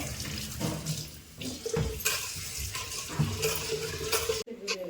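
Soaked rice being rinsed again with water for homemade pathrode in a village kitchen: steady running and sloshing water with small clattering of a vessel, close and continuous, with no speech.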